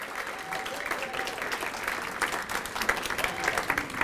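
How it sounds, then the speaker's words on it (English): Applause from the audience at an annual volunteer breakfast in Farmington Hills, honoring the cook and kitchen staff; steady moderate clapping from a room of people that holds for several seconds, with some crowd murmur mixed in. "Give her applause."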